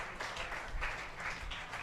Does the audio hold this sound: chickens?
no